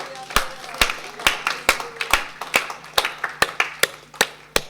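A church congregation claps in a steady, evenly spaced rhythm, about a dozen crisp claps ringing out clearly with no talk over them.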